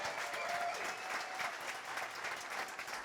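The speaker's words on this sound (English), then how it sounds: "Give yourselves a round of applause for coming out." Crowd at a live evening event in a shop applauds, a soft, continuous patter of many hands heard from some distance, fairly quiet and even.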